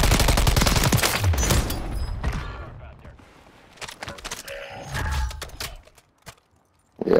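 Rapid bursts of Eradicator gunfire from a multiplayer shooter game crackle loudly at the start, then scattered shots and thuds come and go more faintly, with brief game sounds and a player's voice nearby.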